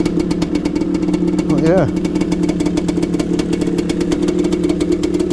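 A two-stroke motorcycle engine, smoking a little after being fed pre-mixed trial-bike fuel, idles with a rapid, steady popping beat close by while someone speaks briefly over it.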